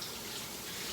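A kitchen sink tap runs steadily over blackberries being rinsed, a faint, even hiss of flowing water with no breaks.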